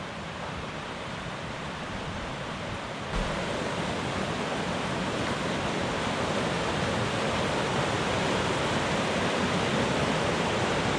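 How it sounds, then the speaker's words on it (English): A steady, dense rush of fast-moving water roars continuously, a constant broadband wash with no pauses and no voices. "It's some fast moving water"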